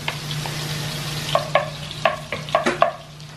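Garlic hitting melted butter in a pan, a steady soft sizzle with a low hum beneath and several sharp clinks and scrapes of a utensil stirring, no talking.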